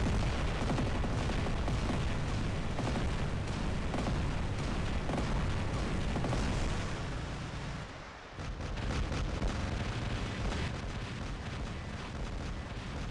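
Heavy robot weapons firing in the video game War Robots during team deathmatch, a loud continuous roar of blasts and explosions with one brief dip in the middle.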